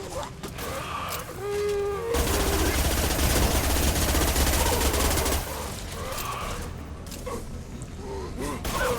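Sustained automatic gunfire in the shooter Mass Effect 2, a dense loud burst of rapid shots lasting several seconds, with scattered shots and voice-like grunts before and after.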